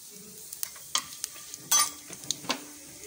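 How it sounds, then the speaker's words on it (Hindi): Cloves and cumin seeds crackle in hot oil in a home kitchen pan: a soft, steady sizzle broken by a handful of sharp pops and spoon scrapes, fairly quiet and close, with no one speaking. "2-4 लौंग और थोड़ा सा जीरा डाल देंगे हम, और इसको चटकने देते हैं पहले"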